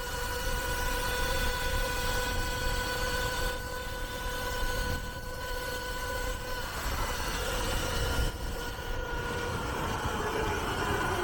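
A Surron electric dirt bike runs at full throttle with a sustained high whine and steady road and wind roar that stay loud and continuous, with no talking.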